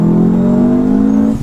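Subaru WRX Impreza stage 3 tuned to over 350 hp, engine revving and accelerating with a steady rising drone, loud and close, running continuously before cutting off abruptly at the end.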